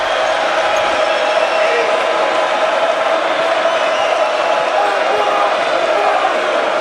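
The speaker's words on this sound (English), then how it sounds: "Here comes the crowd" Loud, steady roar of a college basketball arena crowd during Nebraska vs. Clemson, continuous cheering and noise filling the whole stretch with no clear breaks.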